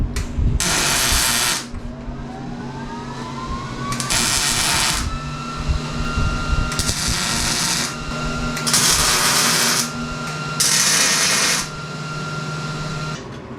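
Welding a metal gusset onto the front shock mount of a RZR Pro XP, heard as five loud bursts of crackling, sizzling arc noise, each a second or two long, separated by pauses filled with shop hum.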